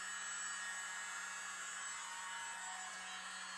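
Air blown across poured paint on a canvas during a black and gray Dutch pour, a steady close whooshing rush that holds at an even level throughout with no talking.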